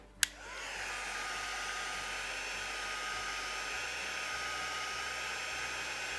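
After a sharp click, a heat tool starts up and blows a steady, close whooshing hum as it warms stamp foam for crafting, continuous and alone for several seconds.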